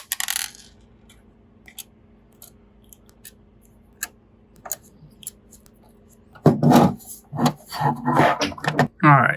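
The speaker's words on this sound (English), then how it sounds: "we'll remove the remaining bordering screws" Silver border screws come out of an Xbox Series S frame with small metallic ticks and clicks, sparse and faint at first, then a denser, louder clatter of handling noise near the end.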